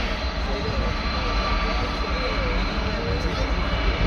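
Steady, loud roar of Airbus A330 jet engines at Paris Orly airport, a continuous broadband rumble close by with speech faintly mixed in.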